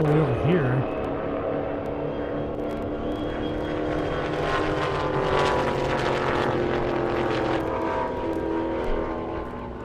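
A supercharged Dodge Hellcat races down a half-mile airport airstrip drag course, a broad distant engine roar with a sustained high whine carrying across open ground, while talk runs faintly alongside.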